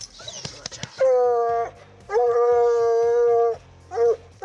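Hunting hounds howl in long, drawn-out bursts during a night coon hunt, three separate howls with pauses between, fairly close and loud, with some faint talk and rustling beforehand.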